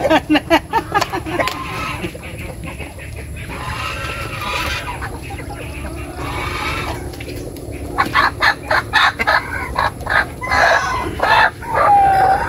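Chickens cluck and a rooster crows nearby, with repeated short calls rising through the second half over steady barnyard background noise and faint voices.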